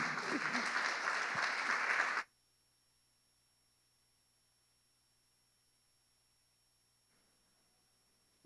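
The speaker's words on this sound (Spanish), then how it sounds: "Damos un fuerte aplauso al Señor" Church congregation applauding together, a loud dense burst of clapping lasting about two seconds that stops abruptly into near silence.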